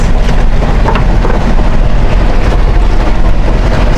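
Steady, heavy rain hisses loudly and continuously outdoors under dark overcast skies, a dense close wash of sound with low rumbling underneath and no voices.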